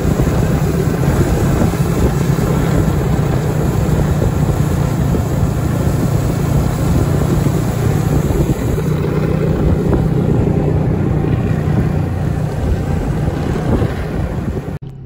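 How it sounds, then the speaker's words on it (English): Snowmobile driving through snowy Lapland countryside near Levi, a constant loud engine drone mixed with heavy wind rush on the microphone, steady throughout with no talking. "The snowmobiling was absolutely fantastic and it was a real highlight of our trip."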